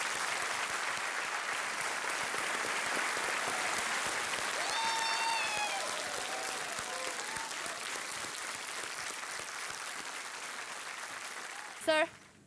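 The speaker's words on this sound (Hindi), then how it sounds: "तालियों के साथ इनका अभिनंदन।" Studio audience on a TV quiz show claps in steady, sustained applause for about twelve seconds, fairly loud and continuous. A brief sharp electronic chime sounds near the end.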